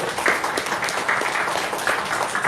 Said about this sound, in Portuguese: vamos dar uma salva de palmas pro Marlon